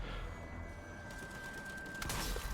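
Gunfire in a zombie shooter played on a desktop with a wireless Stadia controller, a continuous dense rattle of shots under steady game noise with a louder burst near the end.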